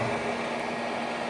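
A steady whirring cooling-fan hum from an MPPT solar charge controller in an off-grid 24V 1000W solar system, a constant mechanical drone and faint hiss, close by and unchanging.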